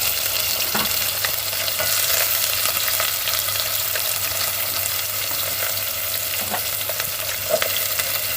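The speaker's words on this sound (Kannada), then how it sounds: "ಇಲ್ಲಿ ಸಾಸಿವೆ ಚಟಪಟ ಅಂತಿದೆ ಕರ್ಬೇವು ಹಾಕಿದ್ದೀನಿ ಮತ್ತು ಈರುಳ್ಳಿ ಕೂಡ ಹಾಕ್ತಾ ಇದ್ದೀನಿ" Mustard seeds crackle and sputter in hot oil with curry leaves and onion for a bitter gourd stir-fry, a steady close sizzle broken by sharp pops throughout, with no talking.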